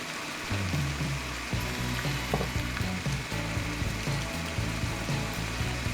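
Chicken curry with spices and chili oil is stir-fried in a pan with a dense, continuous close-up sizzle, overlaid by rhythmic scraping and clattering from stirring throughout.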